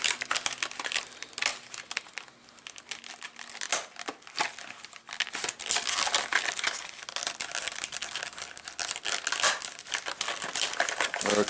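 Plastic packaging for a Poulan Pro 4018 chainsaw's new bar and chain is unwrapped by hand, giving continuous close, loud crinkling and rustling, with short sharp crackles throughout and no speech.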